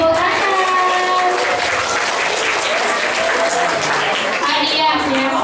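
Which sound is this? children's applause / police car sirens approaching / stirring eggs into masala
children's applause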